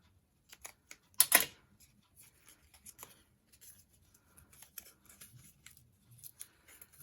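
Scissors make a few short cuts while paper is wrapped and rolled around a skewer for a junk-journal zipper tag. One crisp, close snip stands out, followed by faint scattered clicks and rustles in a quiet room.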